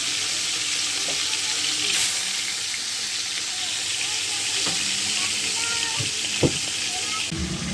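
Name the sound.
fish frying in hot oil in a wok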